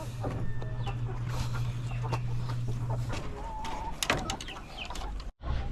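Laying hens clucking on a small farm, scattered soft clucks and short calls over a steady low hum, with one sharper squawk partway through.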